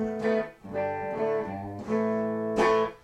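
Electric guitar through a PRS MDT tube amp plays a short phrase of sustained, warm, slightly overdriven vintage-toned notes, close and clear with no voices.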